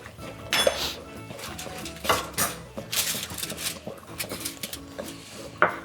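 Fudge mixture being stirred in a bowl, with repeated scraping and clinking of a utensil against the sides in an uneven rhythm, close and moderately loud with occasional sharper knocks.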